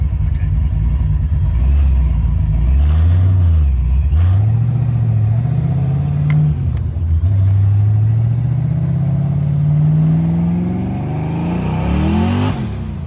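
Car engine pulling hard as it accelerates through the gears, pitch climbing and dropping at each shift, a loud steady rumble close by with no talking.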